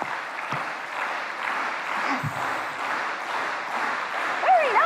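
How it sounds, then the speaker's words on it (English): A group audience at a girls' math prize keynote lecture claps together, trying for a shared rhythm as if calling for an encore; steady, dense clapping fills the room throughout, with a brief whistle-like sound near the end. "I want all of us to clap together as if we were in an audience and it was like an encore"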